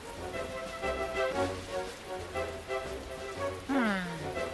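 Rain patters over a cartoon's musical background with low sustained tones, ending in a rising and falling swoop; the rainfall is moderate and steady.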